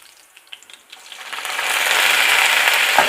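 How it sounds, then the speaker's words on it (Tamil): Curry leaves dropped into sautéing onions for brinjal and drumstick sambar: quiet scattered clicks of stirring, then a sizzle that swells to a loud, sustained hiss and holds, with no talk. "இப்போ கருவேப்பிலை சேர்த்து நல்லா வதக்கிக்கிறலாம்"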